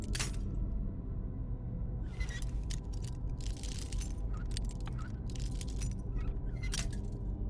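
A master lock being picked in Skyrim gives small metallic clicks and jangling scrapes in scattered bursts over a low steady hum, quiet and close.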